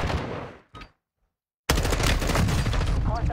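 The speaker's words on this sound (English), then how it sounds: "Why are you shooting at me?" Gunfire in the Warzone 2 video game: a loud burst of rapid shots, then a short gap of near silence, then a sustained heavy fusillade of automatic fire that carries to the end.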